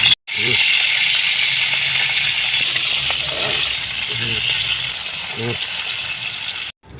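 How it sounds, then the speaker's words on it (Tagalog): Leftover paksiw fish frying in hot oil, a steady broad sizzle running nearly the whole time with a few soft clinks and stirring knocks from the pan, and a voice speaking in the background. "Ito ngayon yung piprituhin natin."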